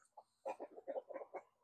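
Chickens give a short, quiet run of clucks close by, several soft pulses in quick succession.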